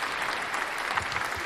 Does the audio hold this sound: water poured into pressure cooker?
no